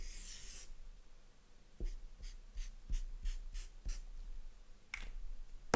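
Scratchy strokes of a pen or marker on a surface, a series of short rubbing marks with brief pauses, close and quiet, no talking.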